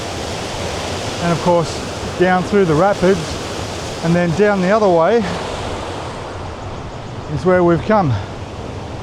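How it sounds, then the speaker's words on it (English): Rapids on a river in Thailand make a steady broadband rush of water that runs underneath someone talking throughout. "And of course, down through the rapids"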